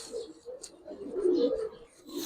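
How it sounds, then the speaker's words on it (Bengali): A male Kaldam pigeon coos softly in a low, burbling voice, faint and brief amid light background noise. "3 নাম্বার একটা কালদম নর কবুতর"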